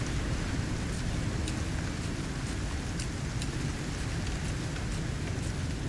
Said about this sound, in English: And that rain watered it as well.